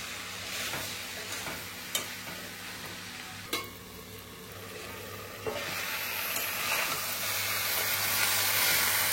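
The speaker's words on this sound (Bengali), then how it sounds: "বন্ধুরা এরকম নাড়াচাড়া দিয়ে ঢেকে ঢেকেই রান্না করবো" Jackfruit curry stirred in a pan over a steady hot sizzle, with occasional sharp clacks of the spoon against the pan, close and continuous, the frying hiss growing slightly louder toward the end.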